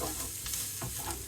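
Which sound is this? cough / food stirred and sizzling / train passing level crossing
food stirred and sizzling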